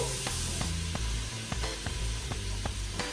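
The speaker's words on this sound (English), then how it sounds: "you got some stuff crackling and sizzling over here" Steady, soft sizzling and crackling of bacon and salt pork frying in a pan, with scattered small pops over a constant hiss.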